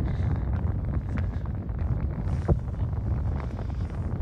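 Strong wind buffeting the microphone in a continuous low roar, with gusty rumbling and no voices.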